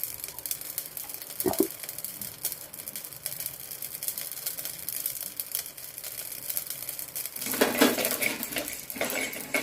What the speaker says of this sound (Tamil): ஓமம் போட்டதும் ஓமமும் பொரியும் நல்லா பொரிஞ்சு வரும்